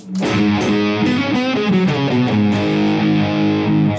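Distorted electric guitar chords with a warbling, throbbing vibe modulation from a Drybell Vibe Machine placed before the distortion, giving the crunchy tone a swirling, vocal quality; no talking.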